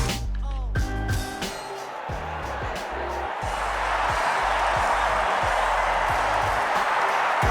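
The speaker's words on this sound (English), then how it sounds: "So it's a crowd swell, which is a crowd reaction." A football crowd swell that opens with a few sharp thuds and chatter, then rises into a broad, steady roar of cheering and clapping that grows louder and fills the rest.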